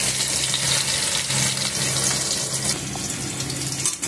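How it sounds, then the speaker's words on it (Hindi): Finely chopped onion hits a hot pan while cooking spiced okra and potato, giving a loud, steady hiss and crackling sizzle that stays continuous and close throughout. "बारीक कटी हुई प्याज डाल देंगे।"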